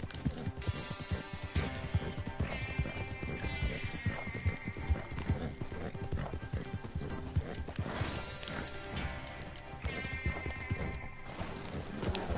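Rapid clip-clop of horse hooves runs throughout with occasional whinnies and neighs, busy and fairly loud against a cluttered soundscape in the video game Red Dead Redemption 2, in a winter setting.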